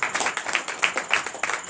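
A church congregation claps and acclaims Jesus during a night deliverance and prophecy service, a steady patter of hand claps with scattered voices, moderately loud and close.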